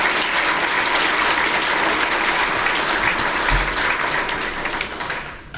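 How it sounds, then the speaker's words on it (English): An audience at a Rotary zone institute gathering applauds, dense sustained clapping from a large crowd that fills the room and begins to fade near the end. "Give yourself a round of applause"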